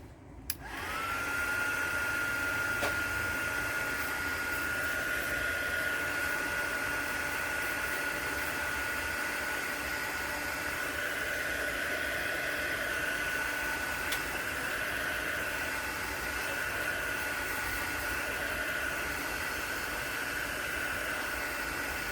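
A hair dryer switches on and blows in a steady, loud whooshing drone with a high whine as it dries a mixed media artwork, running continuously without a break.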